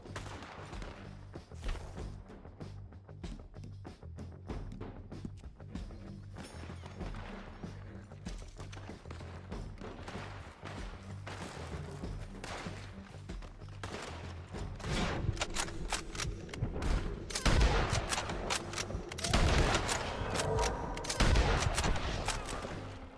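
Gunfire in the video game Red Dead Redemption 2, with rapid repeated shots and bursts over a rumbling background that build louder and denser toward the end.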